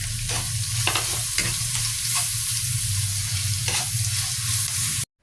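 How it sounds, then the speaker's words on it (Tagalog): Onions sautéed in a pan for a Filipino bean sprout and pork dish, a continuous close sizzle punctuated by a handful of spatula scrapes at uneven intervals, ending abruptly. "Igisa lang natin to hanggang sa maging translucent."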